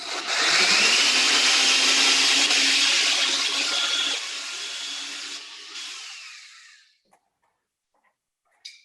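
A blender churns a thick pudding, producing a loud, close, steady whirring roar. Partway through the pitch dips, the motor winds down around seven seconds, and a few faint clicks follow.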